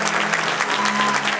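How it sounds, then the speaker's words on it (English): Roaring crowd applause for the aspiring state Premier at a Labor Party election campaign launch, steady dense clapping close and loud throughout. "The state's aspiring Premier welcomed with a roar of applause"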